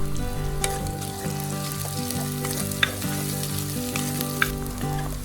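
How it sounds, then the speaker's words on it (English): Sliced onion sautéing in hot oil with cardamom, cinnamon, green chilli, pounded garlic masala and curry leaves for a Sri Lankan black chicken curry. A loud, continuous sizzle carries occasional stirring scrapes and faint clinks, with no voices. "Saute the onion until golden brown."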